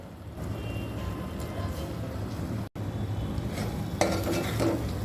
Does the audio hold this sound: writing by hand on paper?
no